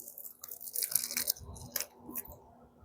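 Crisp crunching bites into pellet-grilled chicken skin, several sharp crackling bursts close to the mic in an uneven chewing rhythm, with no talk over them.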